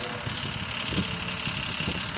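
An MSRTC bus engine in a video game drones steadily at a constant pitch, loud and close, with a faint high whine running throughout.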